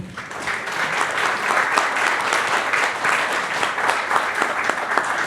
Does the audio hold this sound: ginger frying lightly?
no